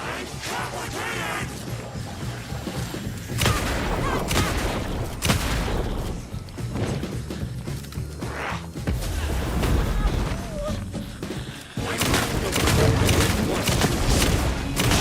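Gunfire in Alan Wake 2 comes as loud, heavy bursts of shots and booms in several clusters across the clip, mixed with game noise.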